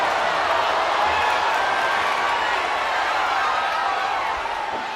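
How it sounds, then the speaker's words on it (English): A dense, loud crowd roars continuously in a wrestling arena during a televised WWE Monday Night Raw event, a steady wash of cheering that eases slightly toward the end. "when you can't hear yourself think because the crowd's so loud"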